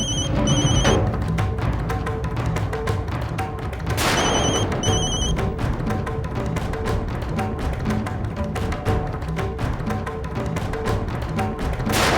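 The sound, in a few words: telephone ringing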